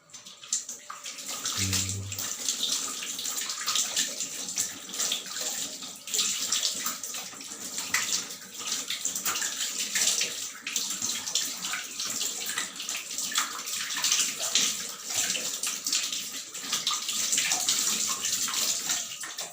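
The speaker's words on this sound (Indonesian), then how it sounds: "Setelah itu bilas pakai air mengalir." Steady running water splashes from a tap for the whole stretch, a constant close hiss with small shifts as hands move beneath it.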